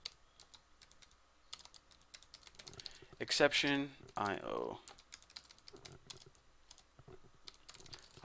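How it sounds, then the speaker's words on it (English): Rapid clicking of computer keyboard keys, with someone briefly speaking in the middle before the typing continues. "I hate typing this freaking catch stuff."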